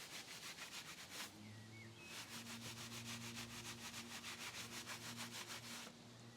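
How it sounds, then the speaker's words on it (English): A detail brush scrubs the brake caliper behind a wheel spoke in a fast, rhythmic back-and-forth rubbing, close and quiet, with a faint tonal hum underneath and no speech. "the easy detail brush was again employed to clean the part of the caliper hidden behind the spoke"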